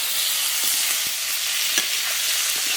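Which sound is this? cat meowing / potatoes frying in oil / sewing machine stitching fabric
potatoes frying in oil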